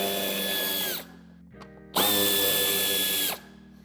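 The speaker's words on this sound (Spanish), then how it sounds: "tenemos que aflojar los dos tornillos de Tor de 25" A power screwdriver loosens Torx 25 screws on a Mercedes-Benz Vito W447 bumper in two loud, steady whirring bursts, each about a second long, separated by a short pause.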